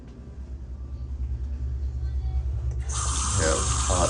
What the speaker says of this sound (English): Have hot and cold running water here.